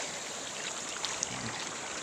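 Steady broadband rush of strong floodwater current flowing after a typhoon, a continuous hiss-like roar at moderate distance with a couple of faint clicks.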